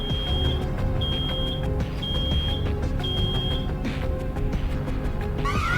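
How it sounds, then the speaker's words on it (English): A high electronic alarm in the video game Road 96 beeps in four evenly spaced, steady tones, each about half a second long, loud over a continuous engine-like rumble and busy background game sound. "Something's beeping!"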